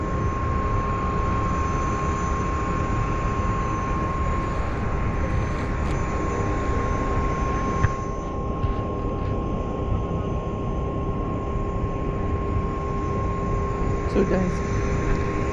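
An aircraft ground air unit running at Glasgow Airport gives a loud, constant roaring whine with steady tonal hums. Someone talks briefly over it near the start.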